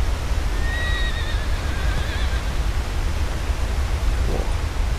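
A horse in the video game Red Dead Redemption 2 gives a clear whinny near the start, set over a constant rushing waterfall roar, followed by a softer snort later.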